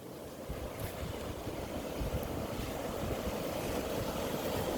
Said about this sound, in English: as the tide crashes over the rocks and right before you get to the rock